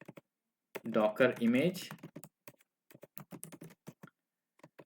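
Keystrokes on a computer keyboard while a build step for a Docker image is typed: a quick burst of clicks with someone talking over it, then scattered crisp taps alone for the last few seconds.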